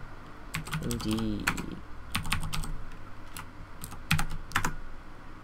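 Fingers tap out bursts of keystrokes on a computer keyboard, clustered clicks separated by short pauses, close and clear, with a faint voice briefly present.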